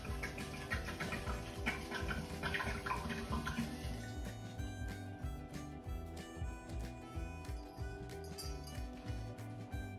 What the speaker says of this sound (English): So we're gonna pretty much pour this whole bottle into here